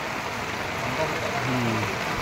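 Heavy rain pours in a dense, constant wash of noise, with a voice talking faintly underneath.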